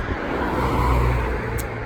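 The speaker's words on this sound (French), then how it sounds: "Je laisse passer la voiture." A car rolls past nearby, a steady rush of engine and road noise that holds for a moment without any voices.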